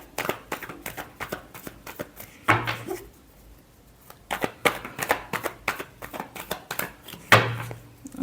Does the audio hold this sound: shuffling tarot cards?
yes